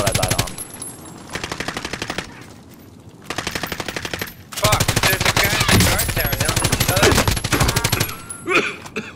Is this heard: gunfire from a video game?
yes